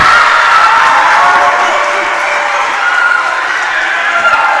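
Spectators at a junior varsity high school volleyball match cheer and shout in a steady, loud crowd roar that fills the gym throughout, with voices mixed into the din.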